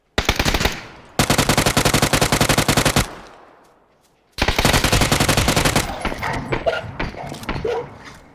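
Automatic gunfire in PUBG on Erangel, two long rapid bursts of rifle fire separated by a brief lull, then a ragged stretch of shots and impacts with muffled voices beneath.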